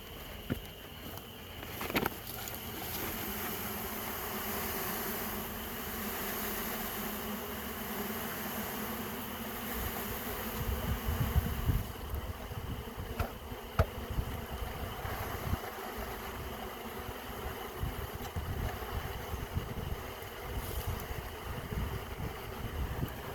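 A dense, continuous hum of many package honey bees inside a hive during installation, steady and fairly loud, with occasional soft knocks and handling noises and no voices.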